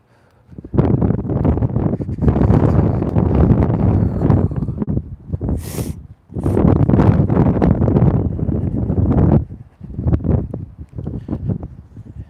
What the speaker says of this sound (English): the wind is very, very strong here